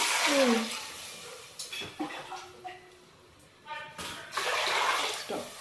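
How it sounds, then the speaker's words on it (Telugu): Water pours into a pot for rice in a burst of gushing splashes. A short pause and a few clatters follow, then a second steady pour. A faint voice is heard briefly. "ఒక గ్లాస్ రైస్కి 2 గ్లాసెస్ వాటర్ వేసుకోవాలండి."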